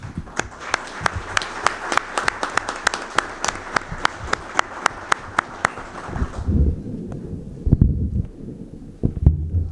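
Union assembly audience breaks into strong applause to welcome a returning guest speaker, dense rhythmic clapping for about six seconds, then dying away into a few stray claps and room rustle.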